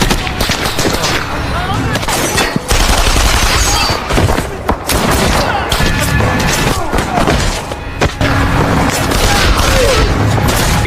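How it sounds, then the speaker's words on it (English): A movie shootout fills the scene with loud, dense bursts of gunfire from gangsters in a Colombian barrio. Sharp shots and booms overlap almost continuously, with shouting voices mixed in. "Morales' men had also surrounded and started shooting at them."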